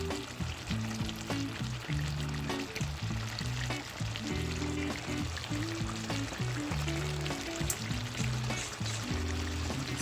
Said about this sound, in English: I'm gonna add some butter, a tablespoon of butter to my fish